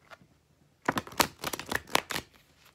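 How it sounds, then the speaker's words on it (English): A deck of tarot cards shuffled close up in a few quick riffling bursts of crisp, papery flutter after a brief quiet start. "So just shuffle one good time, or maybe two"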